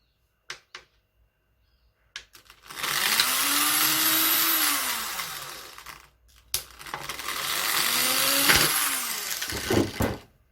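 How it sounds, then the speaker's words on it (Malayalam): A plastic bottle being drilled, with two long whining bursts of a small drill motor, each several seconds, separated by brief clicks and handling knocks. "നമ്മൾ രണ്ട് കിഴുത്ത രണ്ട് വശത്തായിട്ട് ഇടുകയാണ്"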